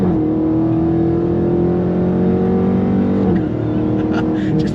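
A 2023 Chrysler 300C engine revving hard under throttle, a loud, close, sustained roar with rising harmonic tones that build for over three seconds, then ease slightly as the revs shift, with a voice briefly audible over it.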